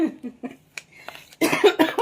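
Several short coughs come in quick succession, close and fairly loud, with a harsher burst of coughing toward the end.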